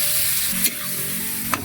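Squid frying in oil with garlic and ginger for adobong pusit, a brief close sizzle with two sharp stirring clicks of the ladle against the pan.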